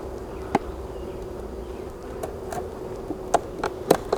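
Honey bees hum during a spring inspection of a queen castle hive box, a faint steady drone with a few brief, close buzzes of single bees passing by and sharp knocks from handling the box.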